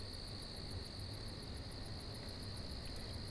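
A steady, faint chorus of crickets chirps in a continuous pulsing trill against quiet background hiss.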